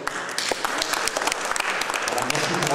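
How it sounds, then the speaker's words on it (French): An audience at an evening event in Orléans breaks into loud, dense applause, with many hands clapping close together and rapidly throughout, and a few voices mixed in. "je pense qu'on peut l'applaudir très fort"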